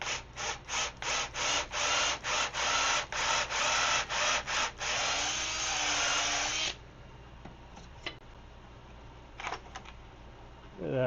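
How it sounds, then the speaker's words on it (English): A power drill works on wood during an outdoor catio build, with a string of short, rhythmic bursts, then one longer continuous run, followed by quieter handling noises. "But will my drill go there?"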